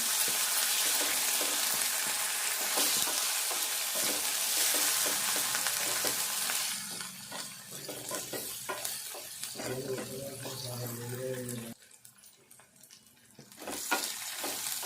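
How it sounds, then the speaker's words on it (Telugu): Ginger garlic paste fries in a pan for a tomato egg curry, a loud continuous sizzle that later eases into lighter crackling with spatula stirring, and a brief tonal hum partway through. "ఇవి అల్లం వెల్లుల్లి పేస్ట్ వేసుకుందాము. కొద్దిసేపు ఇది వేగేదాకా వేయించుకుందాము."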